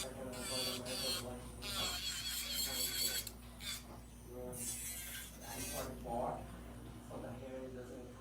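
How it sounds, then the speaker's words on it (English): A light, intermittent whir of an electric nail drill shapes an acrylic nail in short passes, with the speaker talking over it throughout. "Not gonna drill too much."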